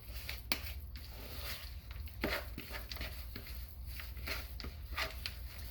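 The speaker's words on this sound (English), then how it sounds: "I'm going to get me another spoon to stir them up with" A spoon works through a stiff mixture of oatmeal, chocolate and nuts, giving soft irregular scrapes and thick squishy thuds, close and fairly quiet over a steady low hum.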